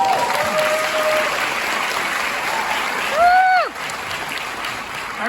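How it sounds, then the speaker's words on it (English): Audience at Cannes applauds in a steady, fairly loud wash of clapping with a few whistles rising through it, swelling briefly before easing. "Now I know I'm going to get some applause."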